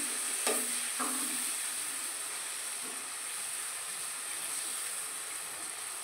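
Boiled potatoes simmering in spiced water for shahi aloo dum, a steady bubbling hiss of cooking liquid with a couple of brief utensil knocks near the start, close and continuous without talk.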